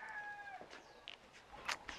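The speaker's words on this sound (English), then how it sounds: "We got roosters in the background." Roosters and chickens on a Hawaiian beekeeping farm, a faint distant crow trailing off followed by scattered clucks and short calls, quiet and outdoors with no talk.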